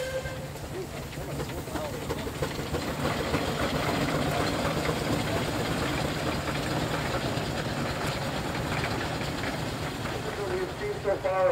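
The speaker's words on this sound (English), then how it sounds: "So this is what we call a single cylinder side mount engine." A single-cylinder side-mount steam engine chugs with a rapid, even beat, loud and continuous, with a hiss of steam and clanking over a busy outdoor thresheree background.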